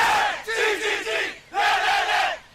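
A crowd of rescue workers cheers in loud swelling bursts, two big waves of massed voices rising and falling.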